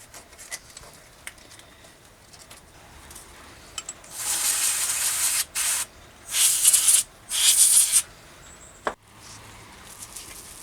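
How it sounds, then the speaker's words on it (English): Brake cleaner hisses out of a can in several short bursts while coarse sandpaper scuffs a bicycle stem, with faint scratching and taps before and after the close, loud sprays. "Some coarse sandpaper and brake cleaner should do the trick."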